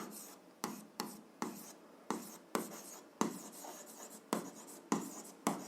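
A pen writes by hand on paper while an algebra exercise is worked out, with repeated scratchy strokes in short bursts separated by brief pauses, close and fairly quiet, with no voice.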